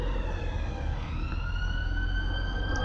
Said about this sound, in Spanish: Todo el rato hay policía, ambulancias, sirenas.